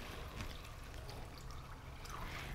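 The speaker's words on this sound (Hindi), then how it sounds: "अब मैं इसमें शामिल करूंगी पानी" Water is poured into a pot of carrots and peas for a mixed vegetable dish, a continuous splashing trickle heard close and steady throughout.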